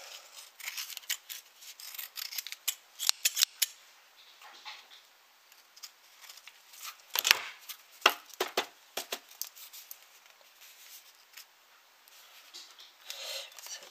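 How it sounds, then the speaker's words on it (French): Scissors trim the overhanging paper pages of a small handmade notebook in a series of short, crisp snips and rustles, close and quiet, in irregular bursts. "je vais prendre un ciseau"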